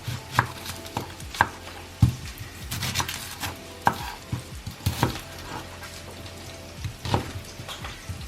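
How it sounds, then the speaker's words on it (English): A knife chops through an onion on a cutting board in a home kitchen, about a dozen sharp, uneven knocks spread across the stretch, close and fairly clear with no talking. "And cut my onion."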